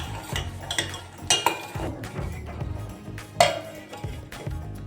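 A spoon scrapes and clinks against a pan while stirring a sweet almond mixture in syrup, with irregular close taps and a few sharper knocks over a soft background.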